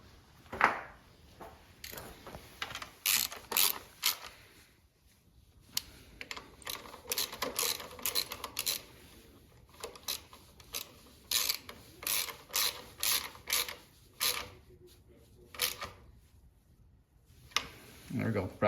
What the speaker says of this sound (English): Grab your 12mm socket again, and then we're gonna snug down these ones